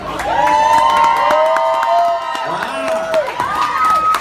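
A crowd cheers at a School of Rock Rock 101 concert, with loud whoops, children's shouts and scattered clapping merging into a sustained roar that rises and falls over several seconds.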